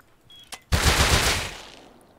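Gunfire in the video game Rust: a single sharp shot followed by a louder, sustained burst of rapid fire that decays over about a second, with no talk.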